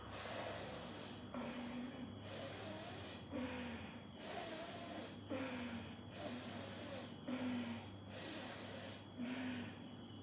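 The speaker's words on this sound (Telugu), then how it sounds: "గాలి దీర్ఘంగా తీసుకుని వదిలేయాలి" Slow, deep yogic abdominal breaths drawn in and pushed out through the nose, about five full cycles in steady rhythm, close up and with no talk.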